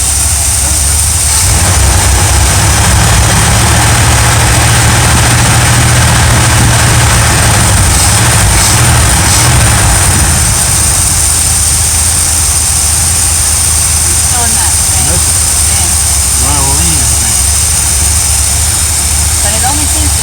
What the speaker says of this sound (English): It's a little high RPM as I'd like. And it's not idling as smooth